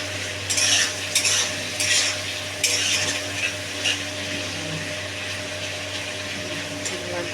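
Prawns sizzle in a pan while a utensil scrapes and stirs them in several short bursts, close and moderately loud over a steady frying hiss.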